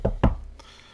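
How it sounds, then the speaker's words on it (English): Two firm knocks on the office door of a newspaper editor-in-chief, close and loud with a short gap between them, followed by quiet. "Then Clark proceeds to knock on the door."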